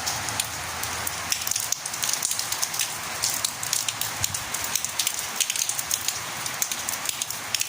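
Heavy rain pours in Saudi Arabia on a New Year's day, a loud, dense, continuous hiss of drops hitting surfaces with scattered sharper splashes and drips, heard alone without voices.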